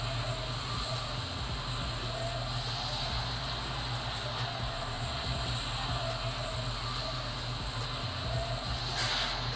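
Aircraft engine drone during the drop in the PUBG video game, a loud steady mechanical roar with constant rumble, alone and unbroken.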